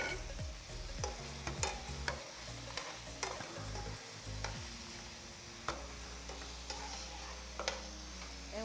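Food with red onions cooks quietly in a pan, a faint continuous sizzle broken by scattered clicks and light stirring taps.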